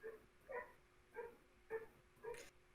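A dog barks outside at night through an open window, five evenly spaced, moderately distant barks in a steady rhythm, with no talk over them.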